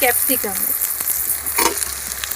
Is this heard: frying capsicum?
yes